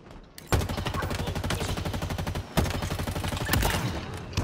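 Rapid automatic gunfire in Halo Infinite multiplayer, loud and close, with dense bursts that pause briefly near one and a half and three and a half seconds before resuming.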